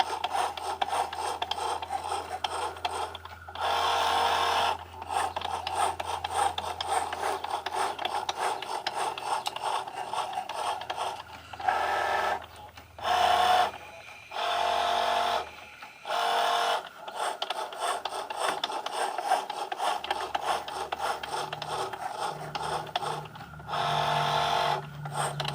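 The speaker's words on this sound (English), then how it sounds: "I could literally sit here all day and just watch my Cricut machines draw." Cricut Joy cutting machine drawing with dual-sided pens, a steady scratchy mechanical rasp of pen and carriage movement running for long stretches, broken by several short pauses and a low motor hum.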